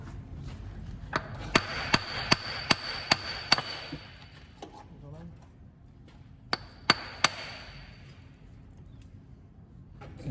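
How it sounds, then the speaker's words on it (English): A copper hammer taps a driveshaft into the hub of a Daihatsu Fourtrak: six sharp metallic taps in quick succession, then a pause and two more taps, ringing clearly over quiet background. "just give it a gentle tap on the end of the shaft with a copper hammer again"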